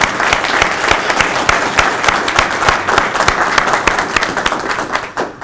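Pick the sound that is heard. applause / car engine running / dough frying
applause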